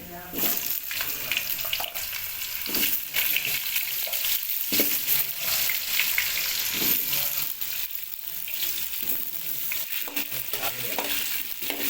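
Sliced potatoes fry in a pan for an egg and potato curry, giving a steady, close sizzle with scraping spoon strokes and clinks throughout, and a few faint voice fragments in the background.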